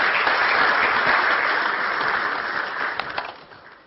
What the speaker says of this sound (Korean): 박수로 한번 부탁드립니다.